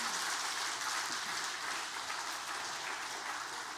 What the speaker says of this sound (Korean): 뜨겁게 박수 한번 해주시기 바랍니다.